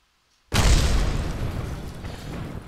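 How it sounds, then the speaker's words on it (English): A rocket explodes on touching down in Kerbal Space Program: silence, then a sudden loud boom bursts in and rolls into a long, slowly fading rumble. "And that explosion means that we have succeeded."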